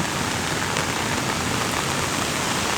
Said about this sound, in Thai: บรรยากาศฝนตกนะครับ